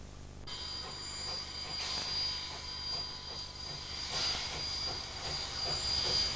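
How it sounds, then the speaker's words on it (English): A Barclay steam locomotive from Burke's Colliery shunts wagons on a New Zealand West Coast line, giving a steady hiss of steam, a high sustained squeal and a rhythmic clank of wagons, moderately close and with no talking. "The Burke's Colliery Barclay is shunting wagons ready for a reshunt by the New Zealand Railways."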